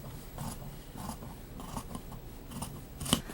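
Scissors snip through the sides of fabric box pleats, a run of close, soft crisp cuts with one sharper snap near the end, quiet and alone.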